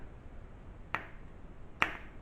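Two sharp metallic clicks about a second apart as a throttle cable adjuster on a Chinook ultralight engine snaps down against the throttle stop, close and crisp over a quiet background.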